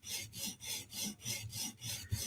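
A knife blade is ground along its bevel in steady, rhythmic rasping strokes, about six evenly spaced passes, close and fairly quiet with no voices.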